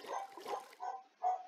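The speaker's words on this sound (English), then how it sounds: "My dog's barking." A dog gives several muffled barks and yips in quick succession, fairly faint and distant indoors during a game session.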